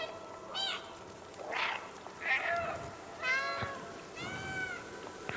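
Repeated strange, alien-like meows from a cat in the video game Stray, several drawn-out calls spaced across the stretch, fairly clear over a quiet background.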